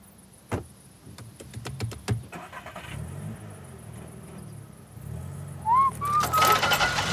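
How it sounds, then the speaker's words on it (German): A car pulls away on a residential street, its engine building gradually over a few seconds with a few sharp knocks early on and a bird calling faintly nearby. "Mutti fährt einkaufen."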